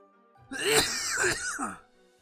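A single harsh cough burst with throat-clearing rasp, close to the microphone, lasting about a second before fading to quiet.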